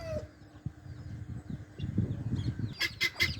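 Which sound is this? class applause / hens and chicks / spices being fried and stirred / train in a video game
hens and chicks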